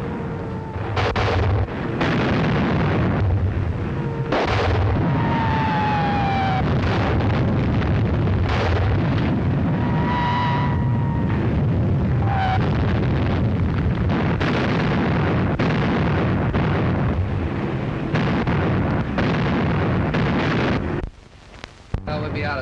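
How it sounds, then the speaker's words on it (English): Artillery bombardment in a 1938 film set in Shanghai: continuous heavy rumbling explosions and booms with whistling shells, loud and dense throughout, fading into a brief lull at the end. "Another bombardment."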